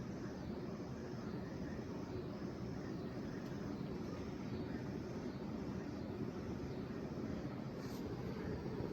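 Hampton Bay St Clarington ceiling fan spinning on high speed, a steady broadband whoosh of moving air that stays constant and fairly loud throughout, with no talking.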